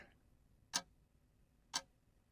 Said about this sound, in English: there's this ticking